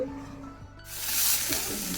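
Vegetables hit a hot pan, and after a quiet moment a loud, close sizzling hiss rises and holds steady.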